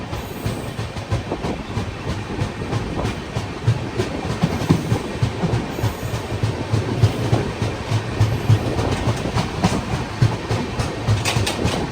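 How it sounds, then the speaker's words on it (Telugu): The Kondaveedu Express running on an Indian railway after leaving Yelahanka junction: a continuous close rumble with rhythmic clickety-clack of wheels over rail joints, steady and loud throughout, with no talk. "యలంక జంక్షన్ నుంచి మన ట్రైన్ అయితే బయలుదేరిపోయింది."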